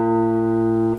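A single plucked guitar fifth string, during tuning by ear, rings out clearly and sustains evenly for about a second before fading, with no voices.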